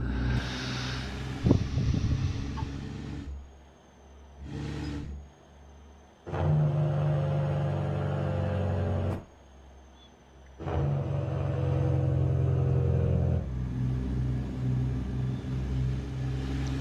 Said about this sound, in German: Detroit Diesel Sounds.